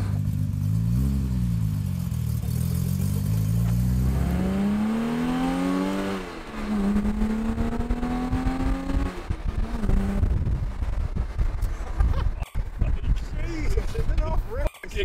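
A modified Jaguar E-Type engine climbs steadily in pitch through long gears as the car accelerates from the cabin, with a drop at the shift, while people talk over the drive.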